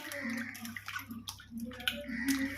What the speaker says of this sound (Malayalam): എന്നിട്ട് ഒന്നും കൂടി നല്ലൊരു വെള്ളം ഇത് മാറ്റിയിട്ട് നല്ലൊരു വെള്ളത്തിൽ വീണ്ടും കഴുകിയെടുക്കുക